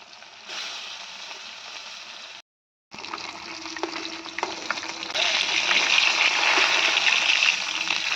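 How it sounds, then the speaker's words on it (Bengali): Rohu fish fries in a pan for a village-style lunch cooked on a rooftop, giving a steady close sizzle that cuts out briefly, then swells louder and denser toward the end. No one speaks. "আর রুই মাছটা এখন আমি ভাজছি।"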